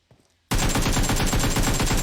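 An AK rifle in a video game firing a loud, rapid burst of automatic shots that starts abruptly after a brief quiet moment and continues steadily to the end.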